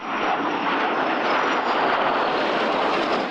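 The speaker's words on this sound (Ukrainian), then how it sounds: "Су-24, бомбардувальник, який з максимальною точністю може вражати наземні цілі." Su-24 bomber jet flying overhead as a loud, steady broadband roar that holds constant throughout, with no other sounds.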